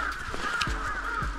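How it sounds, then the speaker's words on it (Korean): A crow caws twice outdoors on a snowy mountain, two short, harsh calls at moderate distance over faint background hiss. "분량을 챙겨주는 까마귀."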